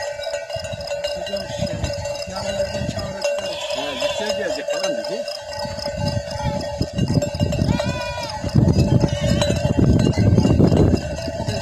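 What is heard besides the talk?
sheep and lambs bleating with cowbells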